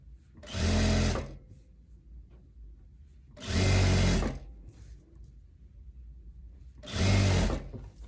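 A sewing machine runs three loud bursts of about a second each while stitching a long kaftan seam, with quiet pauses between runs.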